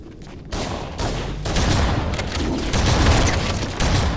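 Shotgun blasts from the Halo CE video game ring out in a dense, continuous barrage of booming gunfire, loud and close with several heavy bursts, and no voices.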